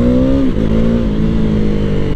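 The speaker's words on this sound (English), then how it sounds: "Such a punchy engine." A KTM Duke 390 motorcycle engine revs up loud and close, its pitch climbing briefly before settling into a steady, punchy drone for about two seconds, with no voices.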